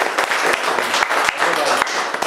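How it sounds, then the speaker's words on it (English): A round of applause for readers at a London reading event, brisk dense clapping from a small audience, steady and close, with voices mixed in. "just a round of applause for everyone that read"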